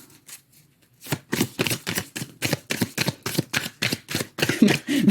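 Tarot cards are shuffled repeatedly in quick, rhythmic riffling bursts, close and crisp, after a brief quieter start.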